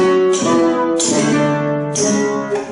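Four strummed flamenco guitar chords of the Andalusian cadence ring out one after another, each struck cleanly and left to sustain, in a slow descending progression with no voices.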